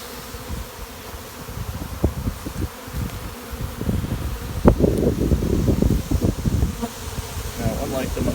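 A honey bee swarm fills an outdoor bee yard with dense, steady buzzing, with individual bees droning close past and some rustling mixed in.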